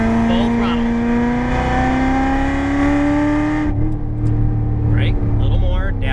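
Corvette C7 at full throttle on a race track, its engine note climbing steadily under loud in-car running noise, then cutting off as the car lifts, while a voice talks over it.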